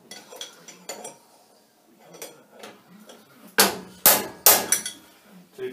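Two sharp smacks land on cutters held in tight collets on a milling setup, loud, close strikes around the four-second mark after quieter clinking and handling sounds of metal tools.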